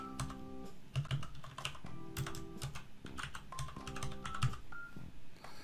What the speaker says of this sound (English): I'm going to type in billing verified